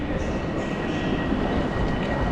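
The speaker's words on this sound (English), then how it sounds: "There's my train behind me." A train rumbles at Wrocław Główny, the central railway station in Poland, a loud, continuous, broad roar with no pauses.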